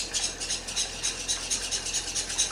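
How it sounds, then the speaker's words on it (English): A plastic whisk stirs cocoa into milk in a non-stick pan, making quick, steady swishing strokes that repeat in a brisk, even rhythm, close and fairly soft. "stir around like that. Mix all the cocoa in, like that."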